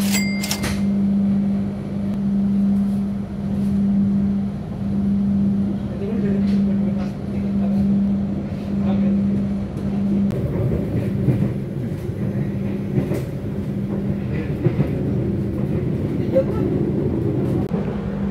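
Sawunggalih passenger train departing Purwokerto station at night: a steady low mechanical hum runs throughout, joined by rolling, rumbling movement noise that builds in the second half, with people talking over it.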